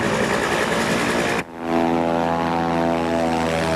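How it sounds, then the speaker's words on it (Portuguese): Old Antonov propeller airplane flying low over Mongolian yurts, a loud steady droning engine and propeller roar with a brief dip before the buzzing tone resumes. "o avião passou sobre os iurtes"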